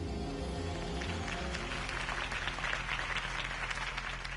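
Crowd applause in the video game Batman: The Telltale Series, a dense, steady wash of clapping from many people heard throughout, fairly distant and even.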